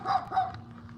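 A big black dog barks outdoors in a residential yard, giving two quick, moderately loud barks about a third of a second apart over a low background hum.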